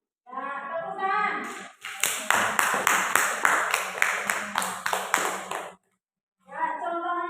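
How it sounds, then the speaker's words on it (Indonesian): A group claps in a steady, even rhythm for about four seconds during a lesson, with a voice speaking just before and just after the clapping. "Ya, tepuk tangan."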